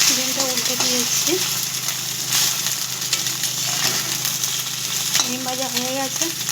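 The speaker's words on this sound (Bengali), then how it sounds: "ডিম ভাজা হয়ে গেছে।" An egg sizzling as it fries in a pan, a steady hiss running throughout with occasional stirring scrapes, while a person talks intermittently over it.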